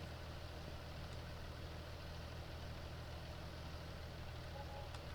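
A tractor on a cereal farm idles while being refuelled, its engine a steady, continuous low rumble that stays even throughout, close by, with no talking.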